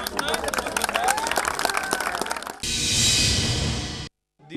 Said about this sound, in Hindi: इसलिए हम सब नरेंद्र मोदी जी को एक बार जोर से ताली के साथ जोर से शुक्रिया